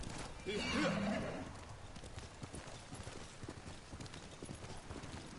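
A horse in the video game Ghost of Tsushima gives a loud whinny, then hooves clip-clop in a steady rhythm that carries on to the end, with a busy background.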